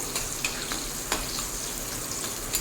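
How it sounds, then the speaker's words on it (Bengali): Pointed gourd (potol) pieces fry over high heat in oil, giving a dense, continuous close sizzle with occasional faint spatters and stirring clicks. "পটলটা দেখুন অনেকটা ভাজা হয়ে গেছে আরও মিনিট দিয়ে মতো ভেজে নেবো"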